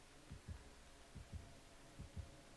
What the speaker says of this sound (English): I hear heartbeats.